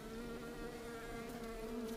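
Steady, dense buzzing of many bees in a hive inside a house wall, continuous and fairly close, with no voices.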